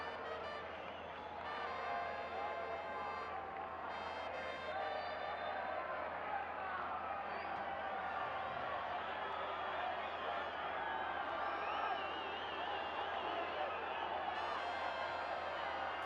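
Football stadium crowd at a Copa Centroamericana match between Real Estelí and CAI booing suspected time-wasting, a steady, broad wash of jeers and shouts with a few whistles rising near the end.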